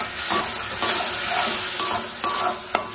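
A spice paste with green chillies and a little water is sautéed in a pan, giving a steady sizzle. A spoon scrapes and stirs through it in several distinct strokes.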